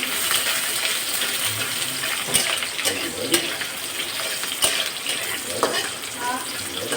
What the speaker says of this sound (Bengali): এই যে একটার মতন পেঁয়াজ দিলাম, তেল দিছি